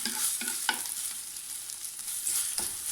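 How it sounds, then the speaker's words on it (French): Onions sauté in a pan over slightly raised heat, with a steady soft sizzle and a few distinct scrapes and taps of a utensil stirring them, close and moderately quiet, with no talking. "je dispose donc les oignons. Là, je suis en train de les faire vite fait revenir"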